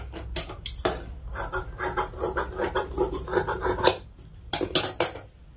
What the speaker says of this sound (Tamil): இது எக்ஸ்ட்ரா இருக்கக்கூடிய கிளாத் இதை வந்து நான் கட் பண்ணி